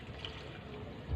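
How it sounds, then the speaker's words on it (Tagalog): Water pours steadily into a container, a continuous close splashing wash with no pauses through the short stretch. "lagyan natin ng tubig para may tubig na siya sa loob"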